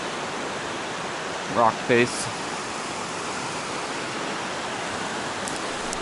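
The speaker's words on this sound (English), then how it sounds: "So I'm at Laurel Falls. There's a cool river here" A river and waterfall at Laurel Falls on the Appalachian Trail make a constant broadband rush throughout, and someone speaks briefly over it.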